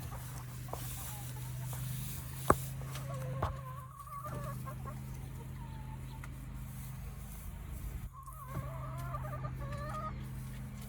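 Hens in a backyard chicken coop cluck and murmur steadily while being fed chicken scratch, with a few louder squawks over a constant low hum throughout.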